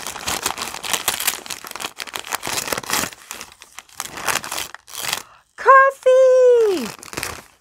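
Packaging crinkles and tears in rapid, close bursts for several seconds, then a voice gives a drawn-out, falling exclamation.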